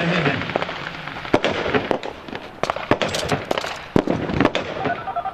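Sharp gunfire cracks ring out in an irregular burst during a police college assault demonstration with fire-and-move drills, many shots loud and close over a rumbling background.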